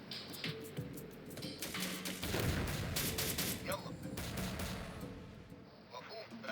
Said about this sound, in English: They have an automatic grenade launcher!